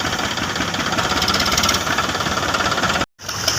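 A tractor engine runs close by with a steady, dense rumble and rapid knocking pulse, broken by a brief dropout near the end before resuming.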